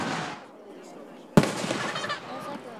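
Fireworks burst over a summer celebration: one sharp, loud bang, then crackling and rumbling that follow close behind it, mixed with crowd noise.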